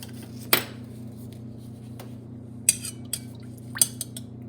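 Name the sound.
spoons being picked up for tasting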